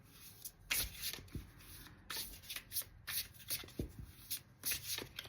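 Oracle cards are shuffled by hand for a card reading, giving soft, quiet, rhythmic riffling and sliding bursts close by.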